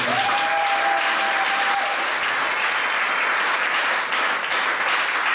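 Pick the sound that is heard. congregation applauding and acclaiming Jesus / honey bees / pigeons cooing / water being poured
congregation applauding and acclaiming Jesus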